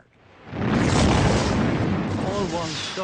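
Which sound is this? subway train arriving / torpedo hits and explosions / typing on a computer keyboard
torpedo hits and explosions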